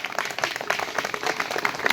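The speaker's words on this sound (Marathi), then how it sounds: "सर्वांनी अगदी जोरात टाळ्या चालू ठेवा." Audience applause at a donation ceremony, a dense, steady patter of many hands clapping continuously throughout, with faint crowd noise mixed in.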